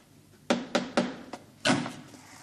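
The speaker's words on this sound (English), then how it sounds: "I will knock." Knocking on a door at an inn in a 1979 comedy sketch: three quick firm raps, a lighter tap, then one heavier knock, close and clear in a quiet room.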